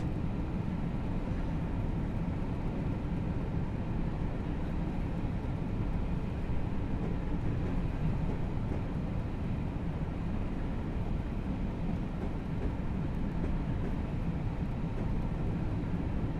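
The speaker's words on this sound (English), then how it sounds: "in a moment we're going to cross a series of slip points into the siding" Steady low rumble of a train in a video game (Train Simulator 2017) crossing slip points into a siding, a continuous mechanical drone with no distinct clicks standing out over the noise.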